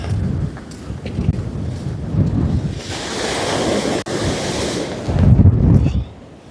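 Strong wind buffets the microphone on the Holderness coast while surf roars steadily beneath, with louder gusts swelling near the middle and again toward the end, no voices present.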